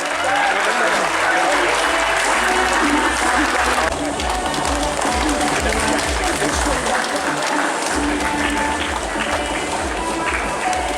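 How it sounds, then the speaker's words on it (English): Large audience applauding medal winners and coaches at a government felicitation ceremony, loud sustained clapping and crowd noise filling the hall, with a low rumble and voices mixed underneath. "Let's give them a big round of applause."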